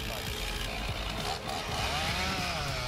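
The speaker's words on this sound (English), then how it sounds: "With the handheld chainsaw, the agility and precision in felling giant trees are truly impressive." A handheld chainsaw cuts into a giant tree during felling, its engine droning steadily and loudly throughout, with a brief dip in the rasping tone partway through.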